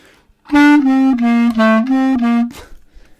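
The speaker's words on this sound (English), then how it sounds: "Now do fast triplets on those same notes." A sustained pitched woodwind or brass instrument plays a quick run of repeated note groups in triplet rhythm, bright and close, ending abruptly.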